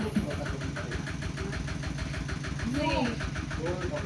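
A farm tractor engine idles with a steady low chugging rumble near a rice mill, while a person's voice and faint sounds rise briefly over it.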